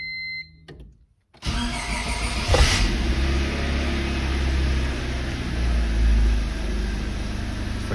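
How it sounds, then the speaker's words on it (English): A Honda Civic undergoing a manual transmission swap cranks briefly and fires up, then settles into a steady, loud idle with a slight surge, heard close up with no talking. "Well, let's see if the car starts at least."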